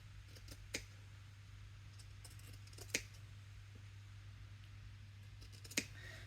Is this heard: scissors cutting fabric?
yes